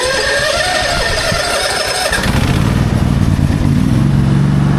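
A motorbike engine turns over and fires on a stormy day, then catches and revs, settling into a loud, rough, steady running note that fills the rest of the clip.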